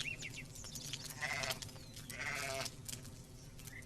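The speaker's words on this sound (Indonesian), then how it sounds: "Iya, seekor domba kecil terbaik." A small lamb bleats in a series of wavering, nasal cries, fairly close and clear against quiet background, with no talk.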